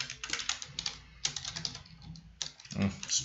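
Rapid keyboard typing in close bursts with brief pauses, with a voice speaking under the clicks.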